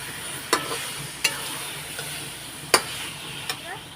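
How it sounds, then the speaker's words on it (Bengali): Chicken pieces sautéing in hot oil, giving a steady close sizzle with a few sharp spoon knocks against the pan at irregular intervals. "সব মাংসগুলো দিয়ে দিলাম দিয়ে এখন কষাবো"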